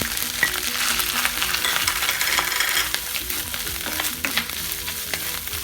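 Grated coconut sautés in a pan with fennel seeds, cumin and cinnamon for coconut rice, a steady close sizzle with frequent metal spoon clinks and scrapes as it is stirred.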